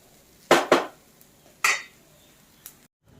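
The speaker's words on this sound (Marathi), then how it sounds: "आपण हळू गॅसवरती आता हे सर्व भाजून घेत आहोत." A utensil clanks and scrapes against a pan while bitter gourd slices roast on low gas, with a few sharp, separate metallic knocks and no steady sizzle.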